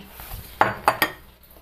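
Jaggery dropped into a cooking pot set on a lit stove, giving three quick clunks and clinks close by, evenly spaced over about half a second, with quiet room tone before and after.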